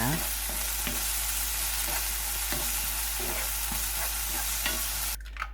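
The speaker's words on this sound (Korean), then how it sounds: "예열된 팬에 올리브유 조금 넣고 썰어 놓은 파프리카 넣어주고 후추 한 꼬집 소금 한 꼬집을 넣어서 중불에서 살짝만 볶아줍니다." Sliced paprika stir-fried over medium heat in a preheated pan with a little olive oil, seasoned with salt and pepper: a steady bright sizzle broken by regular spatula scrapes and taps, cutting off abruptly near the end.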